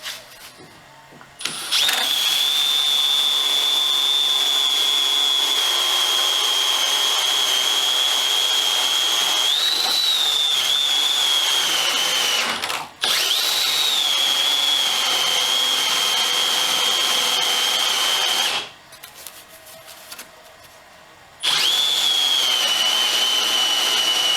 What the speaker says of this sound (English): we're going to start by drilling this hole first